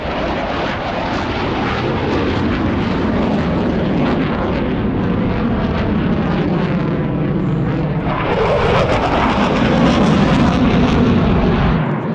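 Jet aircraft roaring past at the Oshkosh 2024 airshow, a loud sustained rumbling roar that shifts in tone as it passes, with a brighter hissing surge near the end; no talking.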